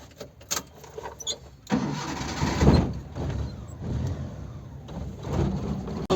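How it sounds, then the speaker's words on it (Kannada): A vehicle engine cranks and starts, then settles into a steady idle rumble that carries on close by with no talking. "ಗಾಡಿ ಸ್ಟಾರ್ಟ್ ಮಾಡೋಣ ಈಗ"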